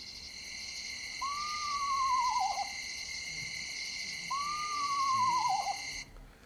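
Two descending, quavering screech owl whinnies, clear and mid-distance, spaced a few seconds apart over a steady high insect drone.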